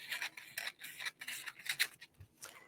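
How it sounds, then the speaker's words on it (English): Scissors slicing through parchment paper in a craft workspace, a string of about eight short, crisp rasping cuts in a steady rhythm, close and quiet with no voices. "I'm actually going to cut this a little bit short just so I don't have to deal with it later"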